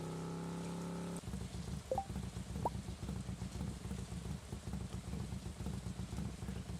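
Green rain falling in the video game Stardew Valley, a steady patter of rain on a surface that starts abruptly after a musical tone and holds even, with a few faint chimes.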